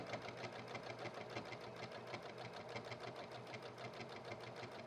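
A sewing machine stitches fabric liners for reusable feminine hygiene products, giving a quiet, fast, evenly pulsing chatter that runs without a break.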